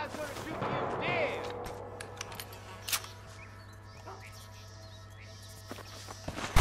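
Gunfire in the video game Red Dead Redemption, a burst of shots early on followed by scattered sharper reports over a steady low hum, with quieter stretches between.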